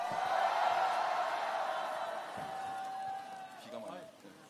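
A crowd at an outdoor political rally in Suncheon roars and cheers in the rain, a sustained distant roar that swells early and slowly fades, mixed with a voice and falling rain.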